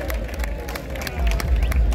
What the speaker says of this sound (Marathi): जरा टाळ्या वाजवा तुमच्यासाठी